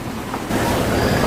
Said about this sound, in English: It's about 17 to 24 knots of wind and waves.